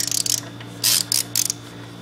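A ratchet breaks loose the oil drain plug on a Craftsman push mower, giving several quick bursts of sharp clicking close by over a faint background hum.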